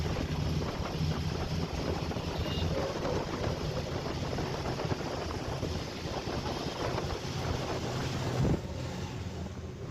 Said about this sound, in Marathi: हा वाशीचा समुद्र.